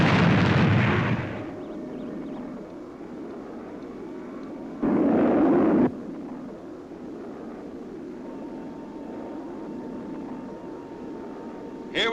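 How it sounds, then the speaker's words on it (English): Fireball XL5 spaceship boosters fire: a loud roaring burst opens, then a steady rumbling drone with a second strong blast midway, heavy and close. "Maximum speed. Fire boosters."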